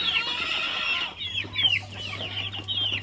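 Three-month-old native chicks and hens, some of them brooding, cluck and chatter close by on a farm in Kottayam, with a steady low hum underneath and repeated short calls throughout.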